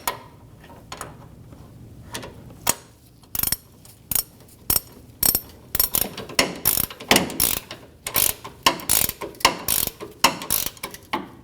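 A wrench ratchets a suspension bolt nut on a Chevrolet Express 2500 van, with close, loud, rapid clicking bursts that come faster and more regularly toward the end.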